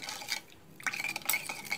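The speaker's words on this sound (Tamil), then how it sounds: "இப்போ இதெல்லாத்தையும் நல்லா மிக்ஸ் பண்ணி" A spoon scrapes and clinks in a vessel while fish curry (neimeen kulambu) spice mixture with chopped tomatoes is stirred, giving short close clattering strokes with a brief pause in the middle and no talking.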